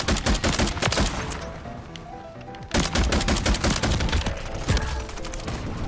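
Continuous loud automatic gunfire in Call of Duty: Modern Warfare III, dense rapid bursts with a brief lull midway before the firing resumes, and no talk over the shots.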